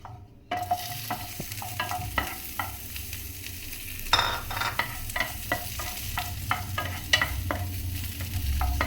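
Chopped onions sizzle in a pan with roasted black urad dal, a steady frying hiss broken by repeated scraping stirs of a spatula, close and fairly loud with no talking.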